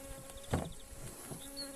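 Honeybees hum softly on hive frames during a queenless split, a close, faint continuous buzz with a brief louder swell as one bee passes near.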